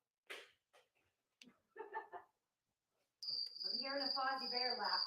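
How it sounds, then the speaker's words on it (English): After a few brief clicks and short bursts, a cricket chirp starts up from a sound machine at a comedy show, a loud, even, pulsing trill holding a high steady tone. "Push the button again. Crickets."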